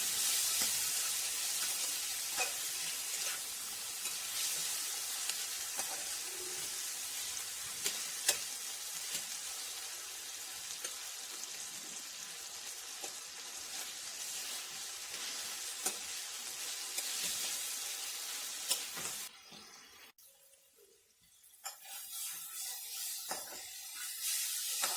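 Chopped tomatoes fry in a pan with onions and paneer for kadai paneer, a steady close sizzle with scraping stirs, briefly quieting near the end before resuming.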